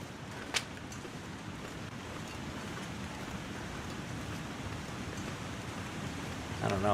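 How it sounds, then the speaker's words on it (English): A waterfall in a snowy wilderness survival game, a steady distant rushing of water that holds level throughout, with a brief click near the start. "That sounds like a waterfall"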